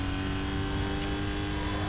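Pontiac GTO engine in Need for Speed: Most Wanted, a steady loud drone held at an even pitch for under two seconds, with a brief high chirp near the middle.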